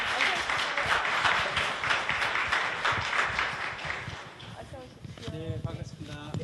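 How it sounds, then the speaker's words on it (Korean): A seated audience at a corporate arts-and-culture forum applauds steadily, a dense wash of clapping that fades after a few seconds as a voice begins speaking. "박수 부탁드립니다."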